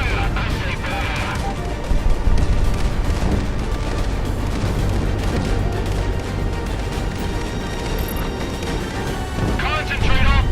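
Heavy artillery fire and explosions in the Frontline war game, a dense continuous barrage of booms and crashes with loud peaks near the start and end, while a voice talks over it.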